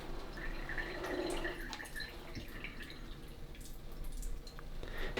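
Water trickling and dripping through the filter of a Brita Aluna jug fitted with an Evolve+ cartridge, a soft continuous splashing patter heard close up and alone.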